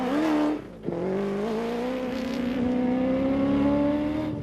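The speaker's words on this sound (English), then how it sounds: "Marsh and Gerard Skitter from Regent Racing confidently maneuvering their way through the very narrow section of sugarcane fields" A Nissan Navara rally car pushes through a narrow sugarcane field section of the Sugarbelt 400, its engine close and loud, briefly lifting off then climbing steadily under power.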